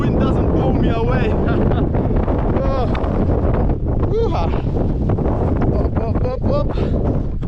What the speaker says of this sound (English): If the wind doesn't blow me away.